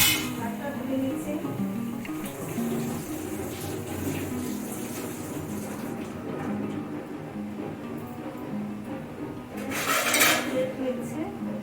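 Pots and utensils clink and rattle under running water while washing up in a home kitchen during Bengali-style cabbage cooking, a steady close clatter with a brief louder splash near the end.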